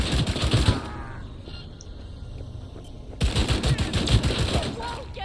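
Rapid bursts of gunfire from the Skippy smart pistol in the video game Cyberpunk 2077, two loud rattling volleys separated by a quieter pause with faint game sounds.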